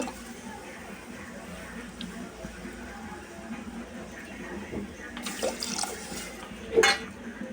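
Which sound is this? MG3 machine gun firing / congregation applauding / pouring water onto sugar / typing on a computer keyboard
pouring water onto sugar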